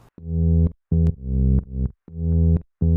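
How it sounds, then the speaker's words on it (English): Low synth bass notes play in a short repeating pattern, one note dropping lower by an octave, clean and close with brief silences between. "if I put this down an octave"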